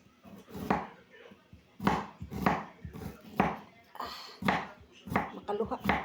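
Onions being sliced on a cutting board in a home kitchen, with firm knife chops landing in small bursts of two to four strokes, close by, while someone talks throughout.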